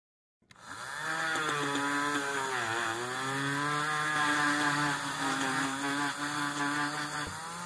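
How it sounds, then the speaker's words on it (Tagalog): Steel brush disc spinning up against the knurled grooves of Pioneer radio tuning and volume knobs, a steady loud whirring grind with a wavering pitch that holds for several seconds, no talk. "gagamit ng steel brush disc sa pagtanggal ng mga heavy scratches"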